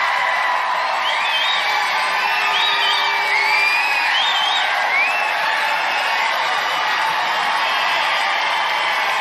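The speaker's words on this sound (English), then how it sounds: "They're just cheering for Trump won." Crowd at a CPAC event cheering and whooping steadily throughout, a dense, loud roar of many voices with scattered shouts rising above it.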